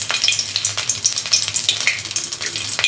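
Dried red chillies and bay leaf frying in hot mustard oil in a wok, a close, steady crackling sizzle with bright spitting pops, no talk.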